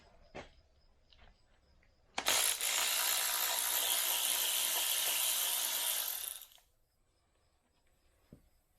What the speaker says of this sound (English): Now we can pop off our valve covers. It's probably 13 millimeter.